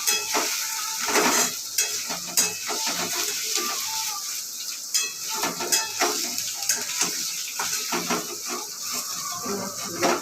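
Paneer and peas frying lightly in hot oil, a close, steady sizzle broken by repeated clinks and scrapes of a spatula stirring in the pan.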